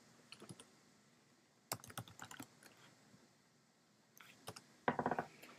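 Computer keyboard typing while entering an account name into a domain sharing form: short bursts of soft key clicks separated by pauses, close and quiet, ending in a denser flurry of keystrokes, with no voices.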